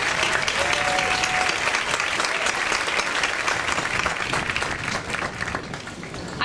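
An audience at a 2018 high school commencement applauds the band, dense steady clapping that fills the whole stretch and eases off slightly toward the end.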